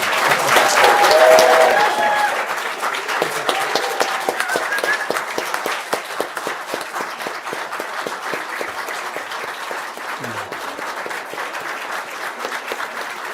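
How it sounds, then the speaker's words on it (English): Applause from the audience at a city council meeting after a unanimous vote, starting with a loud burst and some cheering, then settling into steady clapping that continues at a lower level. "Now you can clap."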